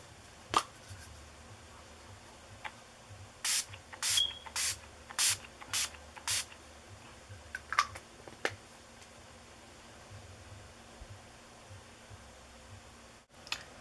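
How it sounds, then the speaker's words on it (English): Six quick hissing sprays of Urban Decay All Nighter makeup setting spray in a rapid burst, close to the microphone, with a few soft clicks before and after in an otherwise quiet room. "I'm going to be using this Urban Decay All Nighter Makeup Setting Spray."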